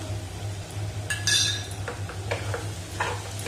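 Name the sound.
stirring banana and jaggery mixture with cardamom in pan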